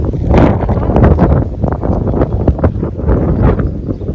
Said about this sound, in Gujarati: પવન કેવો દરિયા કાંઠે આવતો એવો આવે કા?